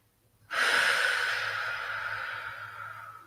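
One long, deep, close breath during a yoga session, beginning abruptly and fading slowly over about three seconds, heard alone against a quiet low hum.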